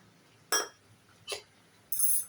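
An egg goes into a bowl while breakfast is being made, with three crisp clinks of shell and hard bowl spaced out against a quiet kitchen background.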